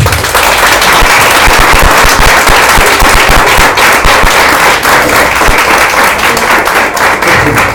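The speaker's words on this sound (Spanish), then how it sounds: "Dale una ofrenda de palmas." A church congregation gives a round of applause: dense, loud, continuous clapping with crackling claps spread evenly through the whole stretch, no voices on top.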